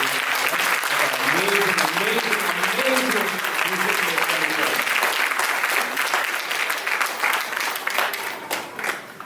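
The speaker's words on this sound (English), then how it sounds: "can we give another round of applause for Kari?" Applause from an audience at a Carnatic vocal recital, a dense steady wash of many hands clapping that runs loud throughout and thins near the end, with a voice speaking faintly underneath.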